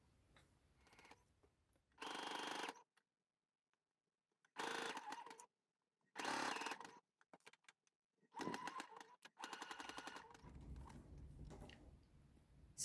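A sewing machine runs a zigzag stitch through stretchy fabric for a twist top, in several separate loud bursts with quiet pauses between, the last stretch mixed with lower rumbling handling noise.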